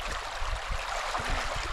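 River water flowing with a steady rushing wash and some low gurgling and splashing nearby, continuous throughout with no voices.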